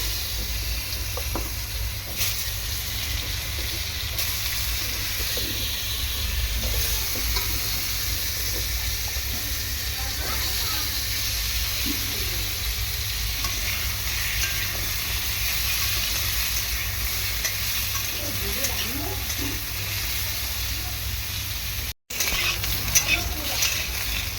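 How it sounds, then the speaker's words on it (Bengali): Potatoes fry in hot oil in a pan, giving a continuous, even sizzle that is close and fairly loud. Occasional soft scrapes of stirring sound under it for the whole stretch. "আলুটা প্রথমে ভেজে নেবো আমি"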